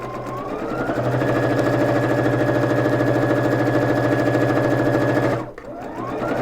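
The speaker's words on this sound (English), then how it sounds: "make your first row of stitching at 1/4 of an inch" Sewing machine running steadily as it stitches the first 1/4-inch row of a French seam, a continuous close motor whir with rapid needle chatter that stops abruptly near the end.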